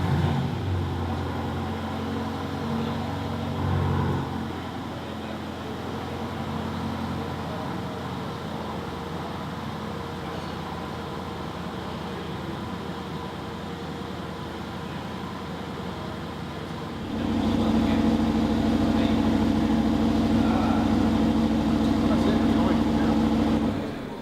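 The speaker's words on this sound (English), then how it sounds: "you also got to hear a little bit of that glorious engine that Aston Martin has incorporated from Mercedes" A 2018 Aston Martin DB11 Volante's roof retracts with a steady mechanical hum, followed by its Mercedes-derived engine running, a low idle rumble that grows louder and fuller near the end, with talking over much of it.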